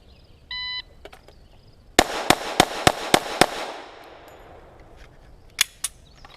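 Six rapid pistol shots from a stock Glock 41 fired at 7 yards, sharp evenly spaced cracks about a third of a second apart, followed by a fading echo and two fainter pops later.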